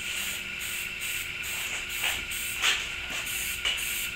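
Spray paint hisses onto interior trim plastics for a light tack coat, coming as repeated short, bright bursts with brief pauses between them, close by and fairly quiet.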